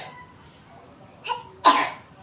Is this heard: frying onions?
no